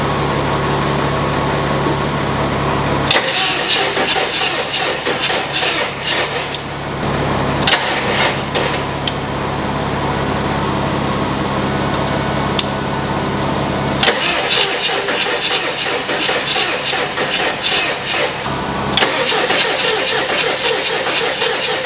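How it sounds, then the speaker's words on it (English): A 7.3L diesel truck engine, fitted with stage 2 injectors, cranks on a jump start in repeated bursts, catches and settles into a loud, close rough idle, with further cranking surges later on. "Now it's hooked up, we're jumping it, and it should spin all the way now."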